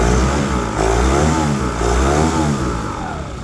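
A 2013 Yamaha 25hp long-shaft four-stroke outboard motor revs up close and loud, its pitch rising and falling in repeated throttle sweeps over a steady droning idle.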